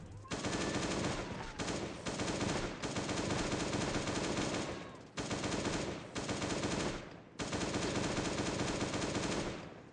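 Guns fire in the video game Last Day on Earth, long sustained bursts of rapid automatic fire, loud and close, broken by brief pauses between volleys.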